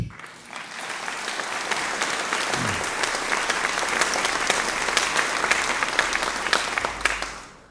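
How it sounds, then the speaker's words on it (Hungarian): A large crowd of Debrecen citizens gives sustained applause at a public address, dense clapping holding steady and loud for several seconds before tapering at the end. "még egy nagy taps is"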